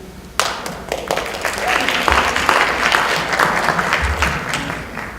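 Audience at an important civic community event bursting into sustained applause, a dense wash of many hands clapping that starts abruptly and stays loud and steady throughout.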